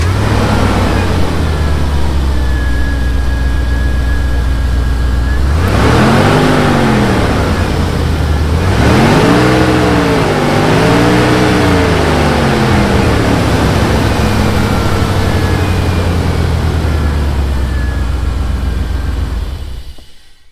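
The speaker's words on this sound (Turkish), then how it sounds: "Motor oldukça büyük. Buraya gelmişken bir de sesini dinleyelim şimdi." A Jeep Grand Cherokee with a 4.7 V8 idles loudly up close, then is revved in a few rising and falling swells before settling back to a steady idle and cutting out at the end.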